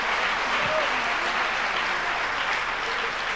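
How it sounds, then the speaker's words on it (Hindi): A large audience at a Jain religious discourse claps in sustained, dense applause, loud and continuous throughout, with no pause in the clapping. "इनकी सम्मान में तालियां तो ऐसी बजनी चाहिए, ऐसी बजनी चाहिए कि रुकना ही नहीं चाहिए।"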